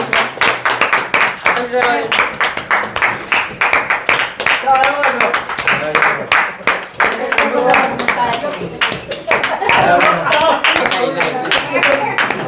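Sharp hand claps repeat in quick bursts at a paralysis rehabilitation centre, near and fairly loud, interleaved with people talking and cheering encouragement.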